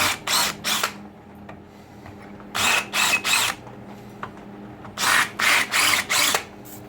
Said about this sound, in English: I'm just going to drill these out just a little bit